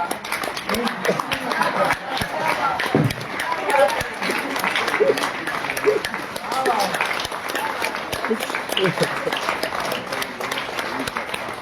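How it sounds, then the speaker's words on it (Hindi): Sustained audience applause fills a hall at a poetry award ceremony, a steady dense roar of many hands clapping continuously throughout, with voices talking faintly underneath. "ये तालियां तब तक बजती रहनी चाहिए"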